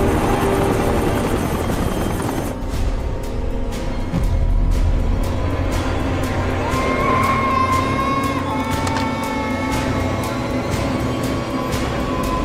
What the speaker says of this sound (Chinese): 要继续送掩护二号直升机返回国内